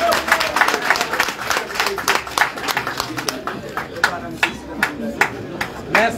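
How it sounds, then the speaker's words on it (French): An audience claps during a gathering of FNDC members in Guinea-Bissau, with sharp, uneven bursts of applause over several seconds, thinning toward the end, while voices talk over it. "Applaudissez."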